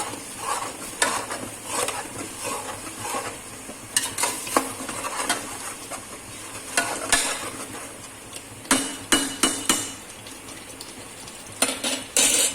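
Chicken biryani masala stirred in a pot with a metal spoon, giving repeated scraping and clinking strokes over a soft, steady sizzle, close and fairly quiet, with no voices.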